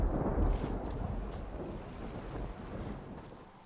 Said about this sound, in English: Oh, that is very stormy and very dark.